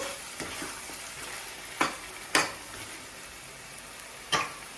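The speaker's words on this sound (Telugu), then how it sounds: "దోసకాయ వేసేసుకొని బాగా ఆయిల్లోనే ఉడికేటట్టు చూసుకోవాలి" Cucumber pieces frying in hot oil for a mutton curry, a steady close sizzle with a few sharp clinks and scrapes of stirring scattered throughout.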